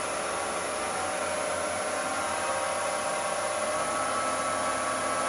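Small light-pull blank spinning on a wood lathe at around 2000 RPM, giving a steady, loud whirring hum with broad airy noise that holds constant and unbroken throughout, with no talk.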